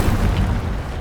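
A short, heavy burst from the Incendio fire spell in Hogwarts Legacy: a low, booming roar of flame that fills the moment and holds steady before easing slightly.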